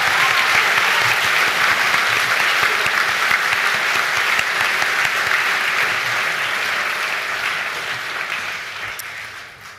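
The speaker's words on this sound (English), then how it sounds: "Let's get another round of applause." Sustained audience applause fills a graduation ceremony hall, a dense, steady wash of many hands clapping at close range that holds loud for most of its length before tapering off near the end.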